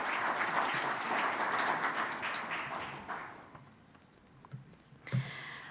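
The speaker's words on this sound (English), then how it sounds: "A big round of applause." Applause from a seminar audience greeting a visiting professor, a broad steady wash of clapping that fades over about three seconds, followed by quiet room tone and a brief thump near the end.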